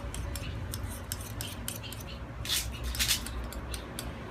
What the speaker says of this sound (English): you should sharpen the dagger by rushing down on the blade